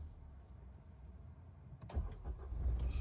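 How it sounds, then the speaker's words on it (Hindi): A car engine cranks and catches with the clutch and brake held down, a low rumble building after a quiet stretch and rising near the end, close to the microphone. "अब वापस क्लच ब्रेक दबा के इंजन ऑन करो"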